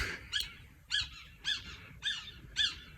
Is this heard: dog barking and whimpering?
no